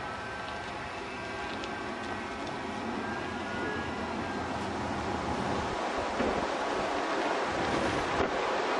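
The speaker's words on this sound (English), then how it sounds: "it's really windy" Strong wind roars steadily across the microphone by the Hudson River in New York City, a broad rushing buffet that stays loud throughout with no voices.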